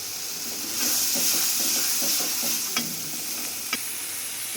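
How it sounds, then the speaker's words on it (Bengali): Spice masala with turmeric fries in a pan while being stirred, giving a loud, steady sizzling hiss with rhythmic scraping strokes and a couple of sharp utensil knocks near the end. "এখন মশলা ভালো করে কষাইয়া আমি মাছ দেব।"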